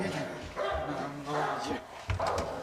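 A dog barks a few times amid several people talking in French, the barks short and close, mixed in with the voices.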